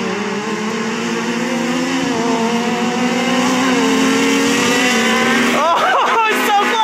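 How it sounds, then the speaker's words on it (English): Can-Am X3 and supercharged Yamaha YXZ side-by-sides race, engines screaming in a loud, sustained high-revving drone that holds steady, with a sharp rising whine near the end. "You can hear Steve's X3 just screaming."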